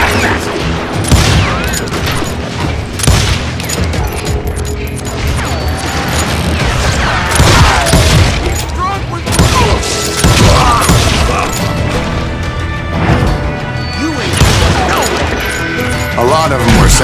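A loud, chaotic shootout in the western game Call of Juarez Gunslinger: dense, rapid gunshots crack and echo, with crashes and impacts mixed in and shouting voices over the top throughout.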